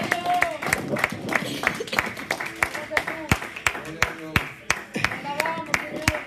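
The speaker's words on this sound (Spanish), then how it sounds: "Dele palmas fuertes al Señor." Congregation at a Spanish-language church service clapping hands in a strong, regular rhythm of sharp, loud claps, with voices and cheering mixed in underneath.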